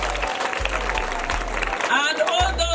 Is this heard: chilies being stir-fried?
no